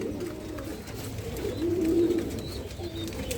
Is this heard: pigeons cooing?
yes